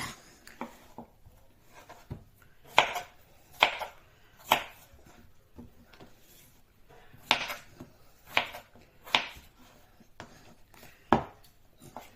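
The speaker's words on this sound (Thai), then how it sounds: "นะตอนนี้เราก็มาหั่นมันฝรั่งด้วยจ้ะเด้อ" Sharp knife chops through potatoes striking a cutting board, irregular bursts of one to three hits with short pauses, close and clear, no talking.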